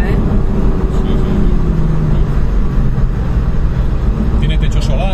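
A BMW M4's engine rumbles loudly and steadily in a deep, continuous drone, with voices talking over it.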